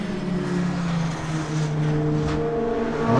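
A Ferrari 458 race car's engine drones loudly and steadily during a race, a sustained mid-pitched roar with slight rises in revs and no speech.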